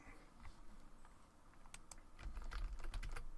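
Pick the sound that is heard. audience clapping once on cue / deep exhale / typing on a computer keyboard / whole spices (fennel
typing on a computer keyboard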